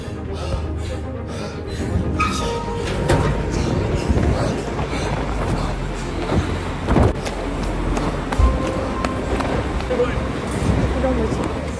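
A bus pulls away in Miami, its engine rumbling and rising as it drives off, loud and close, with the broad noise of traffic and street surroundings throughout.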